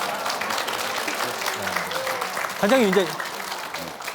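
A studio audience at the Korean morning talk show Achim Madang claps in steady applause, with a voice speaking over it.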